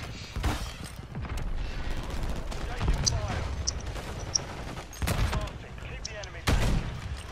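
Gunfire in a first-person shooter video game rings out as repeated bursts and sharp shots, with several louder blasts standing out against a busy background of game noise and voices.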